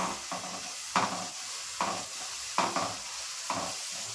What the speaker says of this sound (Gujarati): રીતે હલાવતા રહેશું જેથી આપણું લસણ છે તે ચોટી ન જાય